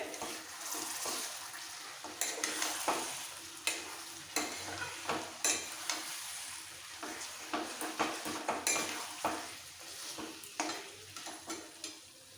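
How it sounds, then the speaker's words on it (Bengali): Chicken pieces fry with spices in a pan for chicken posto, a continuous sizzle punctuated by regular rhythmic scrapes and taps of a spatula stirring and turning the meat. "মশলার সাথে কষিয়ে নেবো কষাতে কষাতে চিকেনটা ভাজা হয়ে যাবে"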